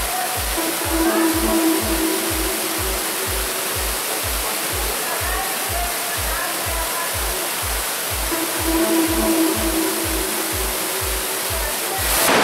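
Underground water stream flowing steadily through a tunnel beneath Saint Petersburg, a constant loud rushing wash with a regular low pulsing thump running underneath throughout.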